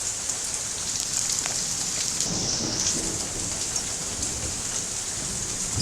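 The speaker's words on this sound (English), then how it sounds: "where you can hear the thunderstorm" Heavy rain in a Canadian thunderstorm pours down steadily in a dense, loud hiss, with faint rumbles of thunder low beneath the downpour.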